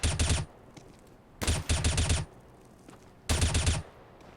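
Three sharp bursts of rapid automatic gunfire in CS:GO during an ESL Pro League match, loud and close, separated by brief pauses with no talk.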